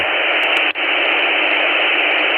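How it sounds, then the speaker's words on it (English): Steady radio static hiss with the squelch turned off, loud and continuous, with a brief dropout near the start before the white noise resumes unchanged. "Turn the squelch off, you're just getting loads of white noise."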